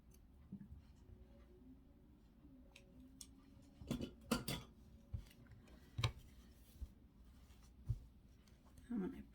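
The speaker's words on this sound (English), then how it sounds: "Just gonna snip the loose thread." Scissors snip a loose thread while sewing a hanging kitchen tea towel: a few soft, close clicks stand out against a quiet room, with faint rustling between them.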